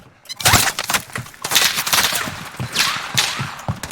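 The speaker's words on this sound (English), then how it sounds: "They're getting shot at by somebody else, or are they shooting at somebody? They're shooting at us." Gunfire in the Warzone Pacific video game, dense rapid bursts of shots crackling one after another for several seconds, loud and close with overlapping reports.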